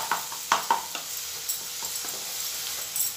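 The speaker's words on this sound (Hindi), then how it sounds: "बीच बीच में हम खोल के चम्मच चलाते जाएंगे।" A spoon stirs tomato masala in a pan over a low-medium flame, giving a few light scraping taps against a soft background sizzle, close and fairly quiet with no talking.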